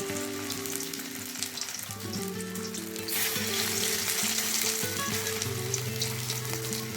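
Poppy seed fritters (posto bora) fry in hot oil, a constant crackling sizzle that swells louder midway as more fritters are added, with a low tonal hum underneath and no speech.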